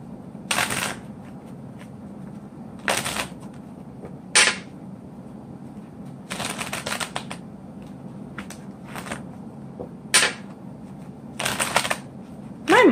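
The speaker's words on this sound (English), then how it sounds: "Let's get a good shuffle in." Tarot cards shuffled in several brisk bursts, each a short crisp riffle separated by pauses, close and clear over a quiet room hum with no talking.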